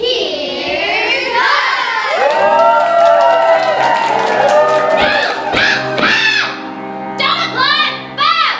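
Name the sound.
audience applauding and cheering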